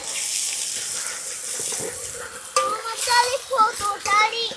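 Onion frying in oil with turmeric and salt, heard as a close steady sizzle that turns busier and more uneven with stirring and scraping partway through.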